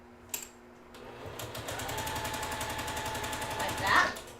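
A sewing machine stitches together quilt block columns in a rapid, steady mechanical chatter that starts after a brief click and runs continuously, close and fairly loud.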